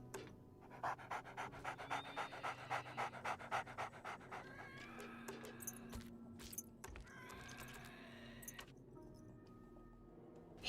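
A zombie dog in 7 Days to Die pants in fast, rhythmic bursts close outside a door, a faint chain tinkle mixed in, before the breathing trails off into quieter shuffling and clinks.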